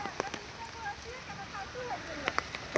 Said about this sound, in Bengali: অনেক বৃষ্টি হইতেছে, বৃষ্টি বন্ধ হইতেছে না